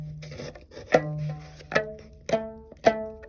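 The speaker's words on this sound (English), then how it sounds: "so when we pluck this, the rubber band starts to vibrate" A few plucked, twangy tones from a homemade rubber band instrument ring out one after another, each starting with a sharp pluck and then buzzing and fading, fairly close, some slightly out of tune.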